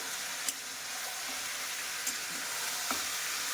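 Goat mutton frying with spice paste and papaya pieces, a continuous close sizzle under a few sharp stirring knocks and scrapes, steady and unbroken, with no voices.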